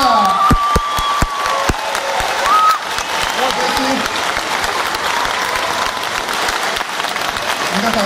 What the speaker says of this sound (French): je vous demande vraiment un tonnerre d'applaudissements pour Kazuo